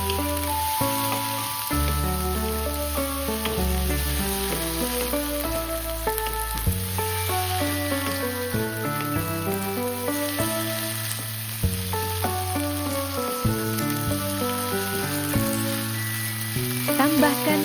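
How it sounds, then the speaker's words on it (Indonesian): Long beans with egg stir-fry in seasoning and are stirred now and then, a steady sizzle running beneath loud background music throughout. "Masak selama beberapa menit sambil sesekali diaduk agar semua bagian terkena bumbu dan matang merata."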